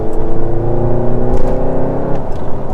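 Loud, deep engine and exhaust roar from a SEAT Leon Cupra hatchback accelerating, a rumbling drone with rising tones, heard steadily from close by.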